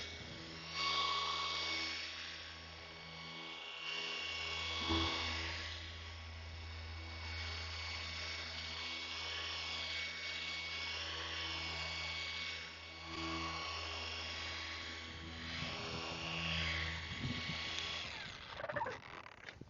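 A machine polisher with a foam pad buffs car paint with a steady, whirring motor hum that holds for about twenty seconds, its pitch wavering slightly as pressure changes, quiet and with no talking.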